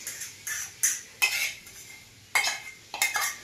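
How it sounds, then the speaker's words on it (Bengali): Chicken pieces dry-fried without oil in a hot pan over a coal fire. A metal utensil scrapes and stirs in sharp, repeated bursts with short pauses, close and fairly loud, and no one speaks. "প্রথমে কি করব, এই মাংসটাকে আমি বিনা তেলে হালকা ভাজবো।"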